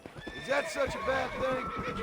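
A horse whinnies in the Red Dead Redemption video game at a corral, a series of wavering neighs with hoof clip-clop, while someone speaks over it.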